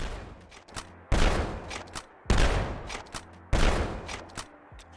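A shotgun in a video game mod fires three loud booming blasts about a second apart, with mechanical pump-action clacks between the shots.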